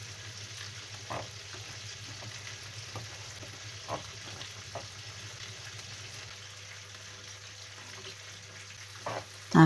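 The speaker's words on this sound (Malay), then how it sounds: "Biarkan cili tu mendidih ya. Dan pecah minyak ya." Chili paste frying in hot oil for ayam sambal, a steady close sizzle with occasional stirring taps and no talking.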